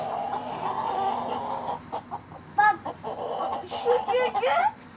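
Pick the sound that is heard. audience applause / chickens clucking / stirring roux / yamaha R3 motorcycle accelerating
chickens clucking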